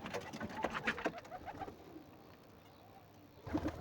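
Domestic pigeons at a rooftop loft coo softly and repeatedly at a moderate distance, with scattered rustling and outdoor ambience.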